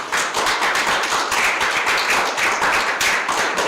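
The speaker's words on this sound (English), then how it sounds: "So give yourselves a round of applause." Clapping from a tournament anniversary group is heard, a continuous, fairly loud patter of hands that stays even and unbroken for several seconds.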